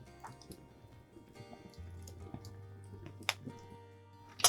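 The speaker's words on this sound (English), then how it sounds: "the water is almost boiling" Water heating toward a boil in a pot over an outdoor fire for coffee, with faint intermittent bubbling and small drips, plus a low steady hum and a few sharp clinks near the end.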